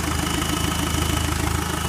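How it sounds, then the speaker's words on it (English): A diesel engine running with no exhaust fitted idles loud and close on a bug out vehicle, a steady rapid knocking chug with dense rattly vibration throughout and no voices. "There we go, 1x diesel engine."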